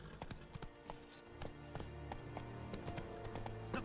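A horse galloping in the video game The Witcher 3, quiet rapid hoofbeats in a steady rolling rhythm, soft and somewhat distant, with no talking over them.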